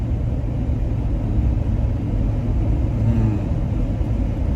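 A 2023 Ford F-150 Lariat cruising at 70 mph, a steady loud low rumble of road and engine noise filling the cabin throughout, with no talk.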